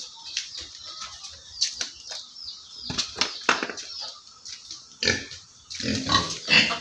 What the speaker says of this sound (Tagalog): Tara po, tingnan po natin yung nabili kong mga baboy.